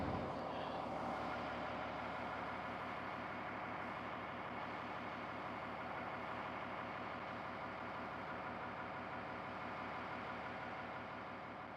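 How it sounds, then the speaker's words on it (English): A deep, heavy engine on a 25-meter ship drones steadily at idle, a constant low rumble with a faint rhythmic throb underneath, nearby and unbroken. "That's why I love this engine, this sound."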